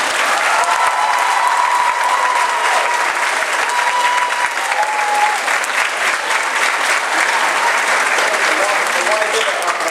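Sustained applause from an audience congratulating graduating fifth graders at a school ceremony, a dense, steady clapping that fills the room for the full duration without pause.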